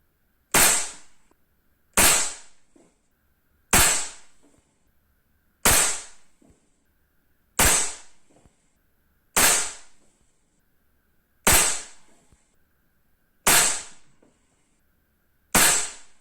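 An air rifle fitted with a Black OPS Soul Langley silencer fires RWS Meisterkugeln pellets at a 10 m target: nine sharp, snappy cracks, evenly spaced about two seconds apart, each with a short decay, and no voices.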